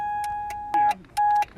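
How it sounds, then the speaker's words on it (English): Warning beeps from a 2000 Mercury Cougar with a crank-no-start fault: a steady electronic tone, then two short, louder beeps with brief gaps between them, heard up close inside the car. "It does make this weird beeping noise"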